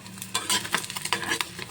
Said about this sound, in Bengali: তো দুপুরে রান্না বান্না এখানে চলছে ডিম ভাজা।